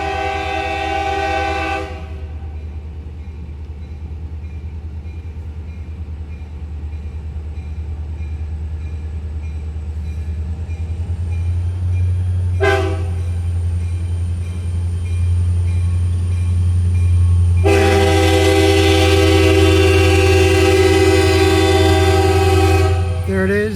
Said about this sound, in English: There it is, that Florida Gulf Atlantic Railway, heading south.